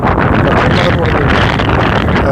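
Strong wind buffets the microphone at the Paruthumpara viewpoint, a loud continuous rushing roar, with a voice partly heard beneath it.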